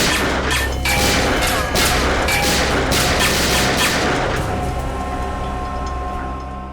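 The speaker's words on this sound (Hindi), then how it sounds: "क्यों फिजूल में कानून की गोलियां बर्बाद कर रहे हो" Gunfire in a Hindi TV drama scene: a rapid volley of sharp, loud shots with bright echoing crashes in the first seconds, then a ringing decay and fading reverberation.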